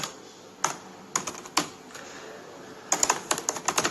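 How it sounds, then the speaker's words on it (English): Someone types slowly on a computer keyboard, with sparse, uneven single keystrokes first and then a quicker burst of clicks, all quiet and close with no talking. "what is wrong with this person with her terrible typing skills"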